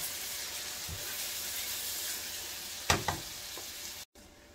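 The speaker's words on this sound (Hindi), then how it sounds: "1 से 2 मिनट हमने भूनना है इसे अदरक लहसुन के साथ।" Onions cooking with ginger-garlic paste and a splash of water in a pan for fish biryani give a steady close sizzle, with a few louder stirring scrapes near the end before a brief cut.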